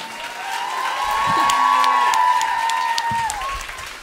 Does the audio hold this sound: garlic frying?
no